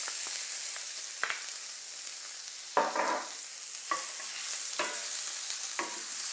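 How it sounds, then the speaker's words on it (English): Diced onion sautéing in a pan after garlic has gone golden, a soft continuous sizzle broken by several sharp stirring scrapes and knocks spaced a second or so apart. "you're gonna wanna saute it just until the onion turns translucent"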